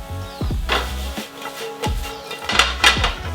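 Korean fried chicken pieces tossed in a pan, producing several close, sharp metallic clanks and scraping knocks at an irregular rhythm, with no voices.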